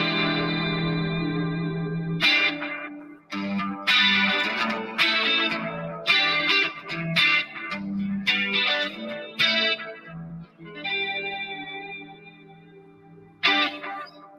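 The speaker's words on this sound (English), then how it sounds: "Somebody really wants to hear the Jimmy chord." Electric guitar playing the Jimmy chord through effects, with distortion, chorus and echo, heard as a series of strummed chords and short phrases with pauses between them, moderately loud and alone without talk.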